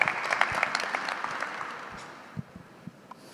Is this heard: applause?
yes